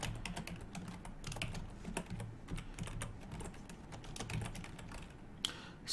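Fingers type code for a Sudoku solver on a computer keyboard in a fast, uneven patter of light clicks, close and steady, with no speech over it.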